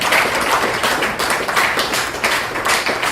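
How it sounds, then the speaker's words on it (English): An audience at an "Old Dogs" performance poetry event at Portland Brew East claps for a poet, a steady close round of applause with dense overlapping hand claps across the whole stretch, no talking over it. "Everybody give a round of applause for Charlie"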